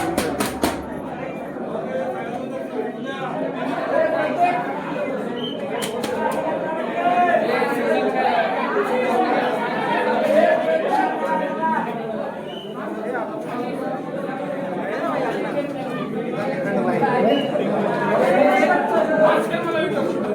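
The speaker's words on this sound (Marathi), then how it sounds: "गर्दी हा भाई." A dense crowd chatters at a temple during Mahashivratri darshan, many overlapping voices at close range forming a steady babble for the full length, with a few sharp clacks near the start.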